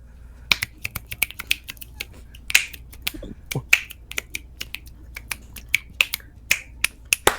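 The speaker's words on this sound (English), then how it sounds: "Are you done snapping your fingers over there?" Sharp, dry finger snaps crack out one after another in an irregular rhythm over about seven seconds, close to the mic in a quiet room during a podcast.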